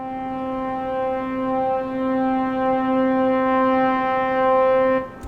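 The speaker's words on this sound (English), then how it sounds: "So I paired that with this increasing brass, just a single note." A single sustained brass note swells steadily louder for about five seconds and then stops abruptly, leaving only a faint tail.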